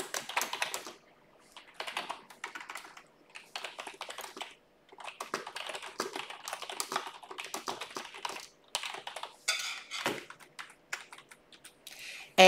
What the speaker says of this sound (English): I can type a message.